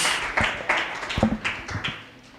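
A church congregation gives a short burst of applause, with several distinct, fairly close claps landing in an uneven rhythm before fading out.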